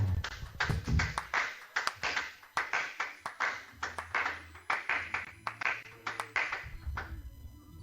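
A church congregation claps together in a steady, rhythmic beat of sharp, close claps, with a low sustained tone underneath.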